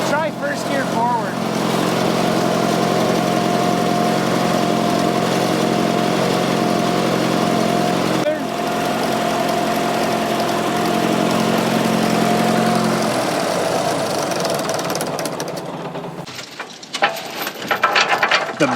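A Fordson Super Major backhoe tractor's diesel engine runs steadily with a low throbbing drone for most of the time, dropping in pitch near the end before clanks and movement noise, with people talking nearby.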